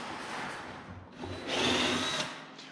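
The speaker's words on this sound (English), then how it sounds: "I'm going to go ahead and drill a hole in this middle bracket that's in between the two holes" A power drill bores through a metal subwoofer bracket in a Jeep, a steady whining grind that swells louder midway as the bit bites, then eases off.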